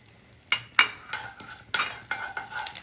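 Whole spices, fennel seeds, cinnamon, cardamom and cloves, dropped into hot oil for egg curry, sizzling steadily with a few sharp crackles and stirring scrapes close by, no talk.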